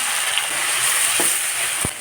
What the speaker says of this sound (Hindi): यहाँ तड़का चटक चुका है तो इसमें साग डाल देती हूँ।